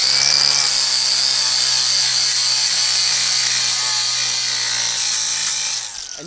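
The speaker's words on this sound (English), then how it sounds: "I'm gonna show you guys a cool trick to clean up your old brake rotors. I've got 80 grit sanding wheel" An 80 grit sanding wheel grinds an old brake rotor clean, a loud, steady whir with a high abrasive hiss that holds for about six seconds before winding down at the end.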